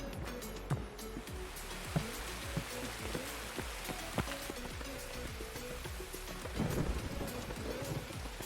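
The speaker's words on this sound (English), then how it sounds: "so you guys don't have to sit here and listen to the thunderstorm" Thunderstorm rain in the video game Escape From Tarkov, a steady wash of downpour with scattered sharp drop hits and a low rumble of thunder swelling near the end.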